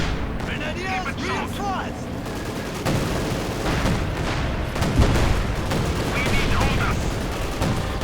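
Gunfire and Panzerwerfer rocket fire in a WWII strategy game battle with tank destroyers keep up a dense, continuous rattle of shots and booms, with a commentator talking over the combat throughout.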